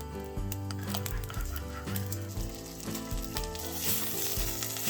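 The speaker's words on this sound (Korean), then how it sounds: "김치찌개를 끓일 냄비에 눌러붙지 않게 식용유를 약간만 두르고 껍질부터 구워주세요" Pork shoulder, skin side down, sears in a little cooking oil in a kimchi-stew pot, giving a loud continuous sizzle with crackling pops and occasional stirring and shifting noises.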